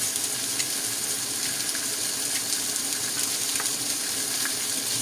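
Ginger-garlic paste added to frying onions and vegetables sizzles steadily in a pan, a continuous loud crackle with occasional stirring scrapes and no talking.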